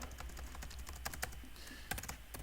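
Rapid, uneven keystrokes on a computer keyboard, close and moderately quiet, with bursts of clicks spread across a few seconds and no voices.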